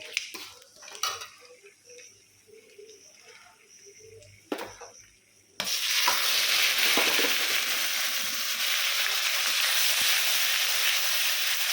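Onion paste sizzles loudly in a pan after a few metal utensil clanks and scrapes on the pan, then frying holds steady and close with occasional stirring, no voices.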